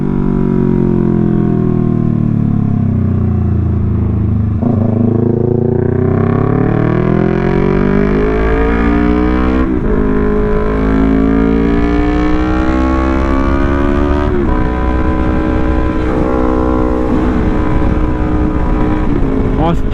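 A Yamaha R3 motorcycle ridden through town streets, its engine note climbing and falling through the gears as it revs, with steady wind rush over the mic throughout.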